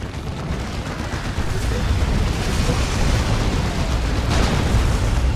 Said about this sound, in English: And that's an orbital bombardment.